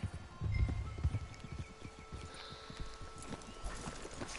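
Horse hooves clip-clop in Red Dead Redemption 2, a run of fairly close hoofbeats at an uneven walking rhythm over ambient outdoor game sound, with a brief low snort or whinny early on.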